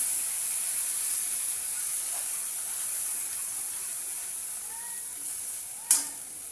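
Ground spice paste sizzles steadily in hot oil where a red chili has been fried, for a soybean and potato dum, with a brief sharper crackle flaring near the end and no talking.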